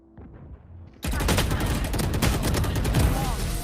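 After a quiet second, a video game erupts into loud, sustained rapid gunfire, a dense close burst of overlapping shots that continues to the end.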